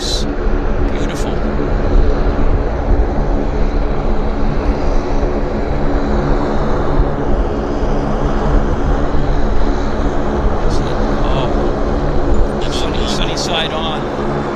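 Aircraft engine noise at Vancouver airport, a steady loud broadband roar throughout with a few faint clicks near the end.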